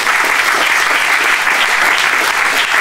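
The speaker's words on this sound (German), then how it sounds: "Applaus für unsere Zuschauer und Brigitte" A TV studio audience at a German political talk show applauds, a loud, dense and continuous wash of clapping that holds steady throughout.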